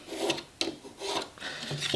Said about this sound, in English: So I'm gonna put it on the lathe